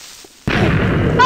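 A creeper explosion in Minecraft goes off after a near-silent half second, a sudden loud blast that rolls on as a dense rumbling roar to the end, with no speech.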